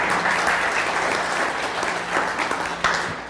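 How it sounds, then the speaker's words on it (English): An audience at a behavioral health organization's meeting claps for staff members in a dense, steady round of applause that stays close and loud, easing slightly toward the end with no clear talking. "we need to give them a round of applause"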